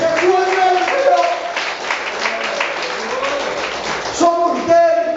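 A church congregation claps for the Lord Jesus during a sermon. Steady applause runs underneath a prominent voice speaking or singing over it.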